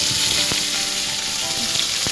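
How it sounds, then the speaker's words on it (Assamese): Pieces of fish rubbed with salt and turmeric sizzle steadily in hot oil, a close, constant crackling hiss with a few sharper spits and pops. "আৰু মাছখিনি ভালদৰে নিমখ হালধি সানি ভাজি লওঁ।"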